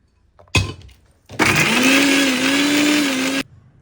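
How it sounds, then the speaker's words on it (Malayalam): A kitchen mixer grinder jar blends mango ginger, first giving a short burst and then, after a pause, a steady loud whirring grind for about two seconds that stops suddenly. "ആദ്യം ഈ മാങ്ങ അഞ്ചി ജാറിലോട്ട് ഇട്ടൊന്ന് അടിച്ചെടുക്കണം"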